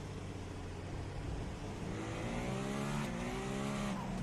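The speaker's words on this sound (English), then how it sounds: "Listening to that engine spool up, the Acura has an engine initially slated to fit into an Indy car" Acura sports prototype race car, its engine originally designed for an Indy car, drones steadily and loudly as it spools up, rising pitch climbing smoothly over a few seconds with a continuous roar underneath.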